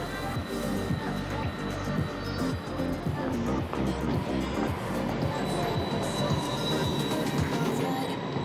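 Tram running through the Nauener Tor gate in Potsdam, a steady rumble of wheels on rail with squealing and rattling carriages, loud and continuous for the whole stretch.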